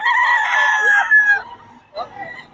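A Golden Monkey Sweater gamefowl rooster crows loud and close in one long call, followed by a shorter, rougher call, with faint chatter from people in the background.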